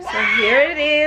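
A close, loud, high-pitched wail from a baby girl wanting milk, two drawn-out rising and falling cries in quick succession, with a brief spoken phrase over the start.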